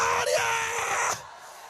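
A church congregation lets out a loud, sustained shout of glory, a dense mass of many voices crying out together that holds for about a second before cutting off abruptly into quieter room sound.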